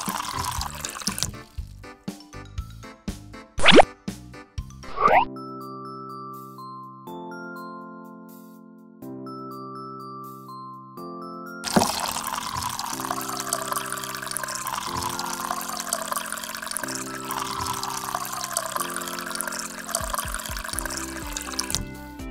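Water poured into a toy cooking pot during doll play: bursts of splashing and trickling mixed with bright electronic toy tones and jingles, getting louder and fuller in the second half.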